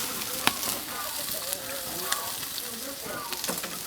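Pork belly sizzling and frying on a barbecue grill, a steady close crackling hiss with occasional sharp pops, faint voices murmuring underneath.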